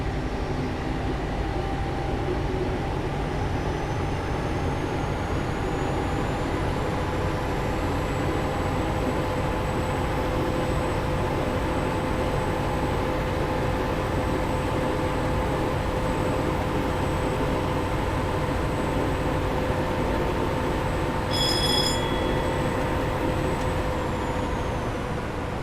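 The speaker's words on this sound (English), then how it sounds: "as we get to 70, I'm then going to idle the power to allow the train to coast" Valenta HST diesel train coasting with power idled on the Paignton to Exeter line in Train Simulator 2017: a steady rumbling roll with constant high tones, close and loud, and a brief clatter near the end.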